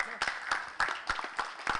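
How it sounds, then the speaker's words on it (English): A few people clapping for teachers at a Friday forum gathering, sparse and fairly faint, with separate claps spaced irregularly over about two seconds. "I give a big round of applause for the teachers for all they helped all the students"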